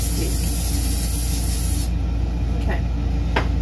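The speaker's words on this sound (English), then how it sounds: "we're going to go ahead and spray our pan again, or spray our bag, because we don't want it to stick" Cooking spray hisses onto a pan or baking bag while preparing peach cobbler in an RV kitchen, a steady broadband spray of a few seconds with short bursts near the end.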